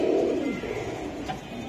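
Racing highflyer pigeons cooing in a loft, a soft low coo at the start over a steady background hum, fairly faint and brief.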